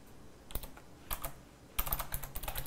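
Close computer keyboard typing of a search query, a sparse tap, then a short cluster, then a faster run of crisp clicking keystrokes near the end, no speech.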